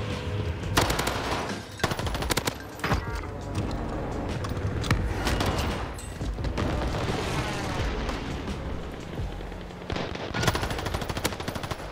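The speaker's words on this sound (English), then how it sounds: "Who, who's shooting?" A video game shootout with rapid SMG and machine-gun bursts, crackling in dense clusters and short pauses over twelve seconds, some shots close and loud, others more distant, with no talk.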